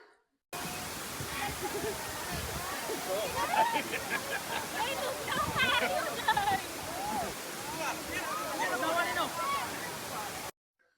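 Piduan Falls gives a steady rushing roar of falling water, continuous and moderately loud, with people's voices over it.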